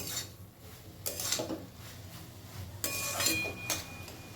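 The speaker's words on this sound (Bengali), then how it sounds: "ভালো করে আদা এবং লাউ একসাথে মিশিয়ে" Ginger and bottle gourd being stirred together in a pan, with a few close scraping and clinking sounds of a utensil against metal in short separate strokes.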